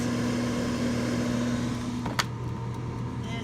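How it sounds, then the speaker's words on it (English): An air fryer hums steadily while frying arancini rice balls, a constant close mechanical drone with a brief click or clatter partway through. "it's in my air fryer and it's frying"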